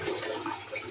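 A toilet flushes in a resort restroom on Borawan Island, a steady, full rush of water running loud and close for the whole moment, with no talking.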